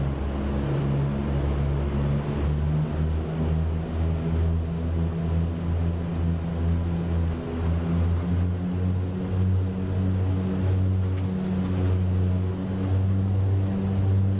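A simulated Dash 8 Q400 turboprop at takeoff power gives a loud, steady propeller drone with strong low pulsing harmonics and a faint high whine, sustained throughout with no talk.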